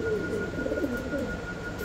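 Pigeons coo softly in a pair kept for sale, a low rolling call repeated over a faint steady background tone, with no talk over it.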